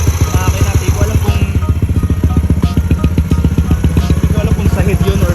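A noisy, smoking vehicle engine runs close by with a loud, steady rapid chugging pulse and heavy low rumble, with a faint clattering knock from the motor over the whole stretch.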